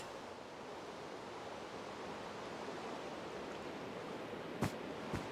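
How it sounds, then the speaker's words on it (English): Steady rain pours over an island in Minecraft, a continuous broadband hiss filling the whole stretch at even loudness, with two brief sharp clicks near the end. "It's just always raining on this island."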